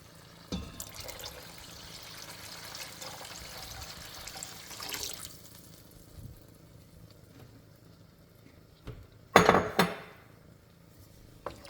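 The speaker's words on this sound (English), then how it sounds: "we are also going to add in 3 cups of water" Water is poured into a pot of beef stew with split chickpeas, a soft splashing stream for a few seconds, followed by quiet kitchen clatter and a sharper metallic clink near the end.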